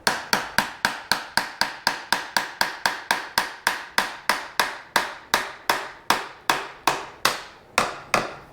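Steady, repeated sharp taps, like a hammer or mallet knocking a part down on a 2023 KTM RC390 motorcycle, about two to three strikes per second, close and crisp with no talking.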